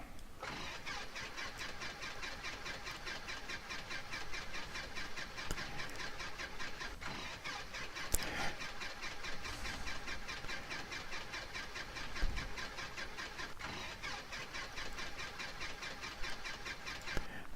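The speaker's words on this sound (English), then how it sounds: "Automatically do an engine start." A Piper Super Cub engine starting in the X-Plane 11 flight simulator, a steady mid-pitched cranking and running drone at moderate level with a few sharp clicks, no talk over it.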